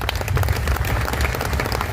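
Dense clapping from a crowd at a public gathering, a continuous loud wash of applause lasting a couple of seconds with no break.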